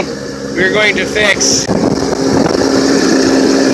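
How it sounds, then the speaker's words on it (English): A very loud engine with two leaky exhaust manifold gaskets runs steadily close to the microphone, a constant roaring drone with wind buffeting, while someone talks over it throughout. "two leaky exhaust manifold gaskets, and it's very loud"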